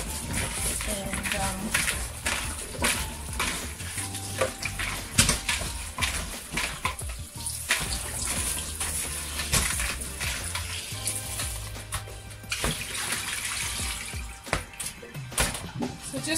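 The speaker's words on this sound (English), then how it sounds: "So what I will do now is I'm going to wash my okra." Okra washed by hand under a running kitchen tap: a steady stream of water with clattering and splashing throughout, while a person talks over it.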